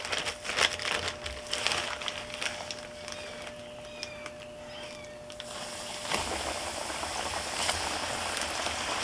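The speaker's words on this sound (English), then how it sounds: "Drop them in. This is going to take a couple minutes, so let them fry up." Chicken pieces dusted in coating fry in hot oil in a Cajun home kitchen, giving a steady crackling, bubbling sizzle that runs throughout and swells louder near the end, with no talking.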